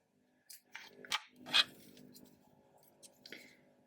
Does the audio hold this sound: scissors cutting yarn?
yes